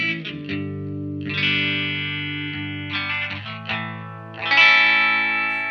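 Electric guitar through a SolidGold FX Aurras Optical Vibraphase pedal with the effect mix turned up: sustained chords and picked notes swirling with a pulsing, warbling modulation, close and steady with no talking.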